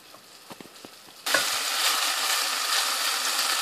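Chicken karahi with onion sautéing in a pan, Chandigarh style: after a few soft clinks, a loud, steady sizzle of frying starts abruptly and continues close up, with occasional stirring scrapes.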